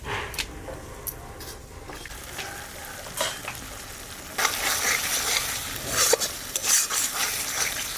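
Yogurt and spice paste frying in a pan for vegetarian dum aloo, a soft crackling sizzle with intermittent spatula scrapes and clinks against the pan, growing louder and busier in the second half.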